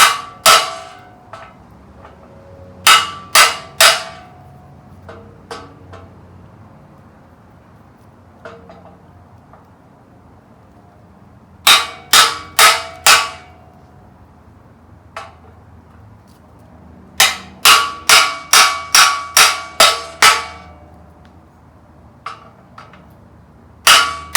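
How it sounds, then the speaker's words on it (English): A socket is hammered to seat the lower steering stem bearing on a Honda 400ex, with sharp metallic strikes in short rapid bursts of three to six separated by quiet pauses. The blows are close and loud, with no talking. "we're going to take a socket that fits and we're going to just crack it a few times in there"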